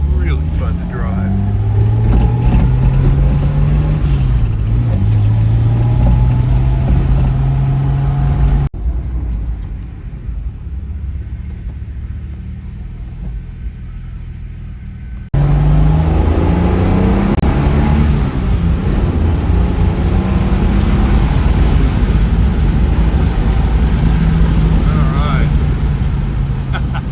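A 1967 Jaguar 2+2 engine rumbles loudly and steadily while driving, rising and falling in pitch as it accelerates, then drops to a quieter idle-like hum for a few seconds before the revving drive sound returns.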